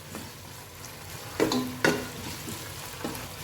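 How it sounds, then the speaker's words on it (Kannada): Ginger garlic paste frying in a pan, a low steady sizzle with a few sharp scraping clinks of a spoon stirring the paste. "2 table spoon ginger garlic paste ಹಾಕುವ. ಆಗ ಇದನ್ನು ಫ್ರೈ ಮಾಡುವ."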